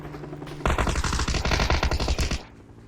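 Rapid automatic gunfire in a multiplayer shooter video game, a loud, close burst of machine-gun shots in quick succession lasting nearly two seconds before cutting off.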